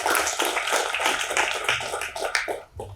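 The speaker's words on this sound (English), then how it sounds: "I think she deserves a big round of applause." An audience applauds at a fireside chat business event, a dense, continuous patter of many hands clapping close by that holds steady for about three seconds and fades slightly at the end.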